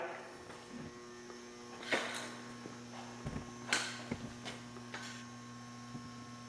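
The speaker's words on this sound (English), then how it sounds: "It's the blower of an old furnace that supplies my downdraft" The blower of an old furnace feeding a downdraft table hums steadily and quietly throughout, with a few light clicks and taps on top.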